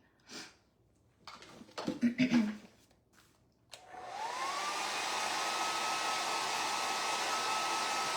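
A hair dryer switches on and runs steadily at a loud, even level, blowing on a peeled-off piece of decorating work after a few brief handling noises and breaths.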